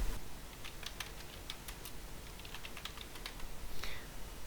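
Fingers tap a computer keyboard in quick, uneven bursts of soft clicks, close and faint against a quiet background hiss.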